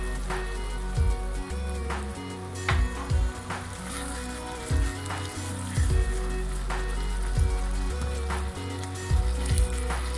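Bitter melon and prawn sambal frying in a pan with added salt, a continuous sizzle broken by periodic thumps and scrapes of stirring, heard over background music.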